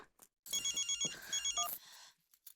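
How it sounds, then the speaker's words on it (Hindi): A telephone rings in an electronic double-burst pattern, two quick trills close together, fairly clear, followed by a brief rustle. "बहुरिया को फोन करके पूछते हैं क्या हुआ।"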